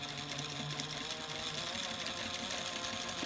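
Sewing machine quilting the exterior panels of a Lola handbag, sewing slowly in a steady, faint, continuous hum with a light mechanical patter throughout.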